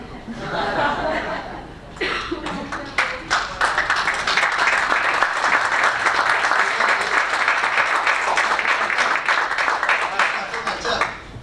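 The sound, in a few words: applause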